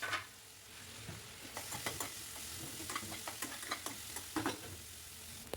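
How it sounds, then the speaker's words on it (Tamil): Onions frying in hot oil in a kadai, a steady sizzle broken by repeated scraping stirs of a spoon against the pan, close and fairly loud with no talking. "கடாயில் ஆயில் நல்லா ஹீட் ஆனதுக்கப்புறம் ஆனியன் சேர்த்து நல்லா வதக்கி விட்டுருங்க."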